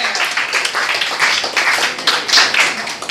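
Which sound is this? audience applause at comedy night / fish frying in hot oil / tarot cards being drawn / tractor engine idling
audience applause at comedy night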